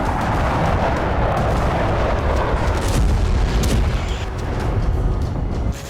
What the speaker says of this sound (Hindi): दावा है कि इजराइल ने यहां टैक्टिकल न्यूक्लियर बम का सफल टेस्ट किया।